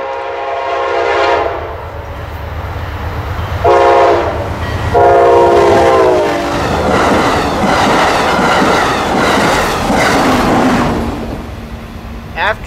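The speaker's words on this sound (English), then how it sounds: "10 minutes to spare before Amtrak 1340 heading westbound for St. Paul, with the Pepsi Cans Pink Scheme" Amtrak 1340 passenger train heading westbound for St. Paul on the Tomahawk subdivision, led by pink Pepsi-can scheme locomotive 160, sounds several loud close horn blasts and then rumbles and clatters past.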